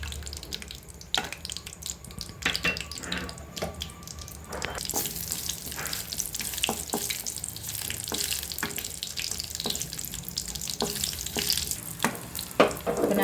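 Cashew nuts fry in hot ghee for a Karaikudi-style black rice pongal, with a bubbling sizzle and clinking stirring, and a brief watery rush partway through. No voices.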